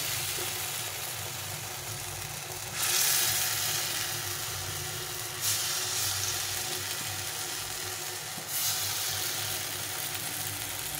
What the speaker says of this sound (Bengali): এটা কম তেলে ভাজা ভালো হয়।